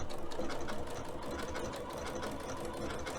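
Steady, fast mechanical whirring and rapid needle chatter from a sewing machine stitching a decorative zipper, running continuously and close with no talking.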